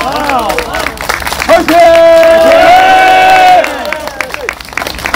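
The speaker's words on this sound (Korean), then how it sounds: "큰 박수 한번 부탁드립니다." Audience applause and cheering at a political rally in Korea, a loud burst of clapping with crowd noise that rises sharply and holds for a couple of seconds, with voices and a sustained shout carrying over it.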